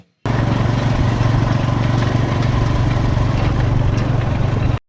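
A motorbike rides along a village road lined with rice fields, its engine droning loud and steady at close range throughout, with a rough mid-pitched rumble and no talking.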